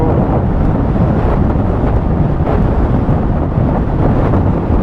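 Heavy wind buffeting against a helmet while riding a 2025 Yamaha TMAX 560 scooter, a loud, continuous low roar and rumble with no speech.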